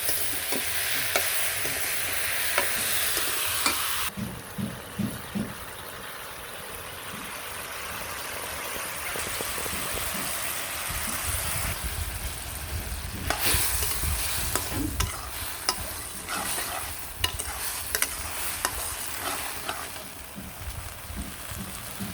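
Vegetables, egg and onion fry in a pan, a steady broadband sizzle running throughout with stirring scrapes and clatters, louder in stretches, with no voices.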